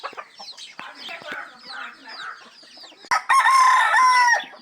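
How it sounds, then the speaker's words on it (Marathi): A rooster with a long shimmering tail and large curved spurs clucks in a series of short, close calls, then breaks into a loud, sustained crow over the last second and a half. "आता कोंबड्याचा आवाज तुम्ही ऐका, आवाज कसा आहे तो"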